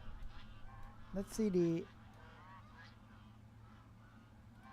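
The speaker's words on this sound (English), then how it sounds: "What's that? I think that's birds. Yes, birds. There they are. That's the weird sound." Geese or similar birds honk a few times in a brief loud burst, heard in Microsoft Flight Simulator 2024 during a flight from Stockholm to Lisbon, over a low steady engine drone, with a voice speaking faintly beforehand.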